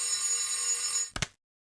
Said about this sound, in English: The moment I put a stop to the blaring alarm clock